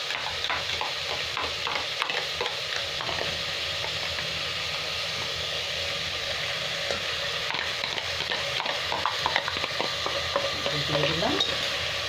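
Chopped tomatoes frying in a pressure cooker pan, a steady close sizzle with stirring scrapes throughout, continuous and moderately loud, with a brief spoken phrase at the start.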